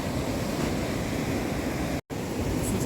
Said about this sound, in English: Listen to that gorgeous sound of the waves crashing.